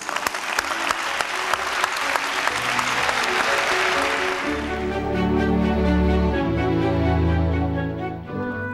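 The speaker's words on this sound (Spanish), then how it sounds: "Un aplauso por él." Warm audience applause at a Spanish television programme in Almonaster la Real, loud dense clapping for about four seconds that fades as music swells underneath and carries on.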